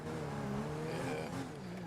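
A car engine in GTA 5 hums and revs at a moderate distance, a steady droning tone that rises slightly midway, fairly quiet and without speech.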